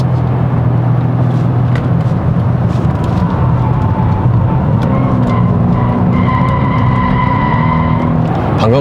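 A 2024 Kia K5 1.6 gasoline turbo corners uphill, its engine note loud and steady with tires hissing on the road and a rising tone near the end, no talk.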